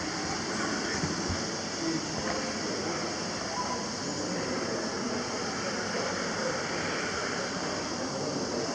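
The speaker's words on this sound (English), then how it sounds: "there's jets which shoot out the water to give you a massage" Steady rushing, bubbling water from massage jets in the hydro pools of Hévíz thermal lake in Hungary, a constant broadband hiss with no break, heard nearby.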